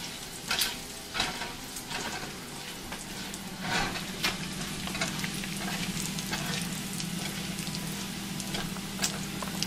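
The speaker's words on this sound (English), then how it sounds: "they go right into the pan and cook" Venison loin steaks sear in a hot pan with bacon oil on the stove, giving a steady close sizzle and crackle with sharp spits and pops scattered throughout and no voices.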